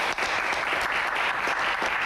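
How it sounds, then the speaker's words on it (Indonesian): A studio audience at a Q&A session applauds steadily, a dense, even wash of many hands clapping at moderate loudness for about two seconds. "Tepuk tangan buat mereka berdua."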